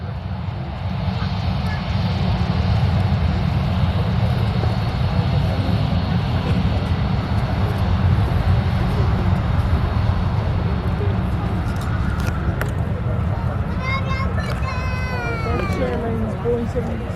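Turkish Airlines Boeing 737 MAX 8 at Manchester Airport at sunset, a loud steady jet engine roar filling the whole stretch, with a faint whine and brief voices near the end.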